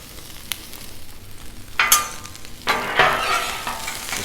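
Onions sizzle and fry on a Blackstone griddle as they are tossed and broken up, with bursts of spatula scraping and louder crackling swells in the second half, no voices.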